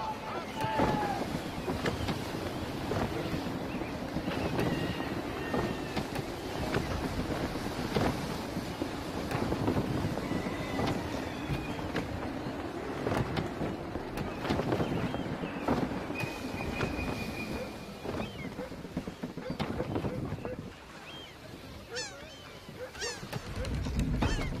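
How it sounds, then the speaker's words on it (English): Steady, gusty wind roars around a sailing ship at sea in Assassin's Creed III, with creaking and water noise beneath it, and a voice talks over it. The wind drops briefly near the end. "Gusty winds can be difficult to manage."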